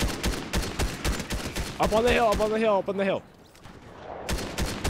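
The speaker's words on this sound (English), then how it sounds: "He's shooting at somebody else, get him." Rapid bursts of video game gunfire in Fortnite Battle Royale crack repeatedly in an even rhythm beneath players talking, with a short sustained tone in the middle before the shots resume more faintly.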